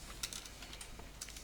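Quick, faint keyboard typing with a few sharp keystroke clicks over steady background hiss, someone entering a name for an item in a game.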